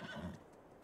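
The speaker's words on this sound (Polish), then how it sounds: "będziemy jeździć na koni" A horse in Farming Simulator 22 gives a brief, faint whinny during horseback riding, a short quiet call fading out within a second.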